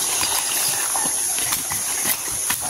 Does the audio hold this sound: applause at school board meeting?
no